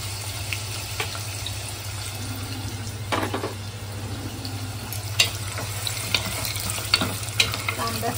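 Onion fries in hot oil while being stirred, a close steady sizzle over a low hum, broken by scattered spoon scrapes and clinks against the pan, with no talk.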